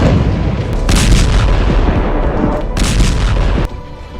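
Loud explosions from Israeli strikes on Syrian military sites, heavy continuous rumbling blasts with two sharp, bright bursts standing out, dense and close.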